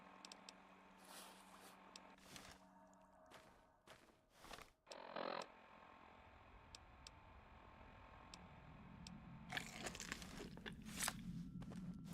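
Crunching powder in the video game Fallout: New Vegas sounds as a series of crisp, close crackling and ticking bursts, with denser gritty crunches toward the end.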